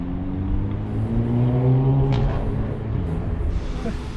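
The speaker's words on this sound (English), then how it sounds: "As soon as we hear another car" A car rumbles past nearby, its engine tone sliding downward as it approaches and moves away, leaving a lower rumble behind.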